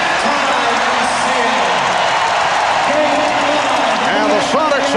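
Arena crowd noise at halftime of the 1996 NBA Finals Game 5, Chicago Bulls vs Seattle SuperSonics: a loud, steady roar of spectators fills the space, with a commentator talking over it throughout.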